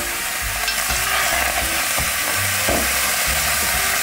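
Tomatoes, sweet peppers and onion sizzle steadily in a frying pan while being stirred, with close, continuous frying hiss and irregular scraping stirs, no voices.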